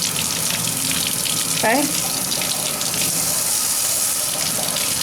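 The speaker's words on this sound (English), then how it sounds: "And then you're going to turn the water off with your knee" Tap water runs steadily from a faucet into a sink during a surgical hand scrub, a continuous hissing splash that stays close and loud throughout, with one brief spoken word over it.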